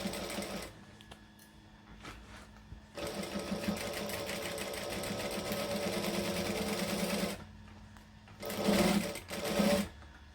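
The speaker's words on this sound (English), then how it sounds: "we're going to back stitch because we always back stitch" A sewing machine runs on a camera bag seam in several bursts: a short start, a long steady stitching run, then two quick back-stitch bursts near the end, close and clear with no talking.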